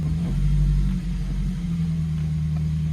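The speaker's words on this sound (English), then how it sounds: "I'm about to start the car, put it in gear to see if it makes that noise again" BMW engine running with a steady low rumble just after being started, with a slight dip in level as it is put into first gear, close and continuous with no one talking.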